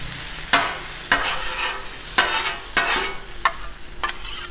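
Shrimp and broccoli stir-fried on a 36-inch Blackstone griddle, steady sizzle punctuated by six sharp spatula scrapes and clanks at roughly regular intervals, close and loud with no talking.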